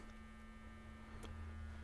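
A faint, steady electrical hum from a plugged-in hair dryer, with a constant low drone and a brief faint click partway through.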